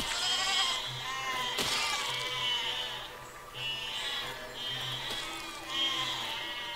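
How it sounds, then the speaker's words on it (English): Sheep bleating in the video game Besiege, several wavering bleats repeating every second or so over a steady ambient game backdrop, fairly loud and close with no talking. "Let's go get these sheep up here."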